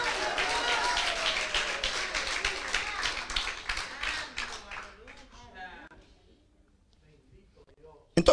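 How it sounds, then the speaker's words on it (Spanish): Church congregation applauding with a thick, continuous patter of many hands and a few cheering voices, steady for several seconds before thinning out and fading to near silence. "¡Aplaude al Rey!"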